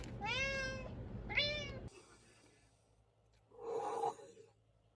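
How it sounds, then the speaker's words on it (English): A house cat meows twice in quick succession, loud and close, then a breathy pause before a third, shorter meow. "now Zuko is meowing and I can't figure out why"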